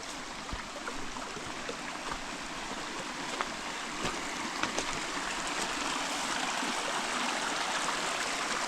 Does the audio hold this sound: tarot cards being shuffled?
no